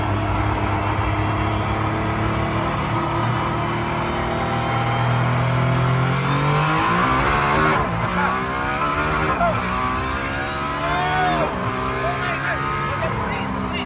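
A Mercedes-AMG One hypercar's engine revs hard while it is driven on a track, a loud, continuous roar that climbs and falls in pitch through gear changes, with people talking over it.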